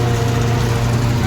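A steady Eicher tractor engine runs continuously at close range with a loud, even low rumble on a farm during winter sowing.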